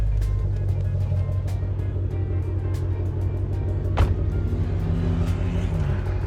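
A 2022 Ford Mustang Shelby GT500 Carbon Edition idles close by with a steady, tame low burble and a few light ticks and clicks over the constant engine hum.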